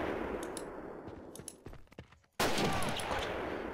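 Rifle and machine-gun fire in the First World War game Battle of Empires 1914-1918, a steady crackle of battle noise with scattered sharp shots, a brief lull, then a loud renewed wall of firing.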